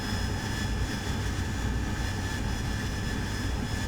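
An AV-8B Harrier jet comes in to land in the DCS flight simulator, its engine a dense, unbroken roar with a loud low rumble and steady high whine throughout.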